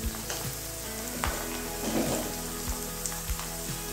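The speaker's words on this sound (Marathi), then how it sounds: "कांद्याची पात परतत आलेली आहे।" Chopped spring onion greens sautéing in a pan give a steady, close sizzle with faint crackles and a few light taps of stirring.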